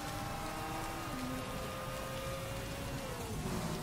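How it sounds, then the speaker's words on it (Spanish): Steady rain in the Motorsport Manager racing game, a dense continuous hiss with faint tonal engine-like lines running underneath, constant and even throughout. "Al final sí ha llovido."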